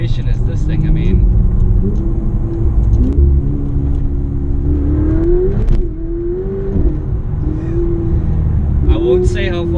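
A Ferrari 488 Spider supercar pulls hard under a deep engine drone and rising revs, heard from inside the cabin with people talking over it throughout.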